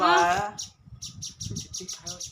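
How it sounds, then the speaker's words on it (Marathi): A sparrow gives a quick series of close, high chirps in a steady rhythm, while a person speaks briefly at the start. "त्या खाली बघ एक चिमणी दिसते"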